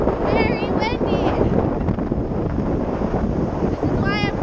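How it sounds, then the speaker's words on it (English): Strong wind in the Icelandic countryside roars and buffets the microphone in a constant, heavy rush of noise. "Very windy."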